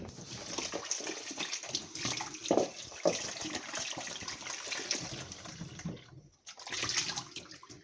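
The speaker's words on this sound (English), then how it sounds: "I am going to wash my ginger." Fresh ginger rinsed under a running kitchen tap, a steady close splash of water with hand-rubbing and shifting sounds, briefly easing off near the end before the flow resumes; no one speaks.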